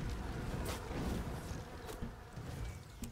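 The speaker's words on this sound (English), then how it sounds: "I hate the bees. The bees do so much poke." Bees buzzing in a video game, an insect drone under a dense noisy game soundscape with a few sharp hits and crackles.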